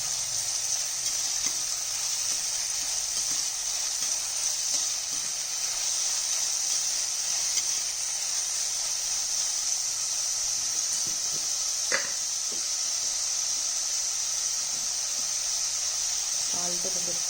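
Green chillies dropped into hot oil for a tamarind-leaf dry fish curry, giving a steady, bright sizzle and hiss throughout, with faint stirring clinks and a few brief knocks underneath.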